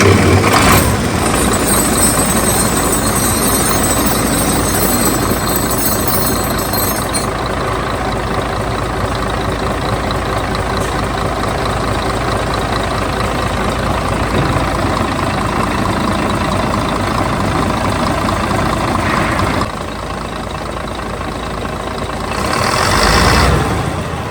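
A MAN D2866 diesel engine turns over on its starter, catches and runs steadily for about twenty seconds, a loud continuous low rumble, then the revs dip briefly and rise again near the end.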